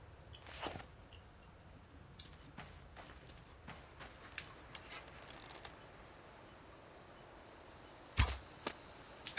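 Arrows strike with dry thuds in the Subsistence survival game, a sparse handful of faint sharp impacts spread over a quiet background, the last one louder and followed closely by another.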